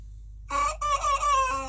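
A farm rooster crows once, close and loud, the call rising and holding for about a second before breaking off.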